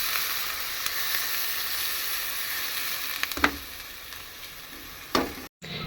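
Water poured into a sizzling pan of spiced gravy with Kashmiri chilli powder and sugar for a raw banana kofta curry, a steady frying hiss punctuated by a few sharp splashes and clatters, close with no talking.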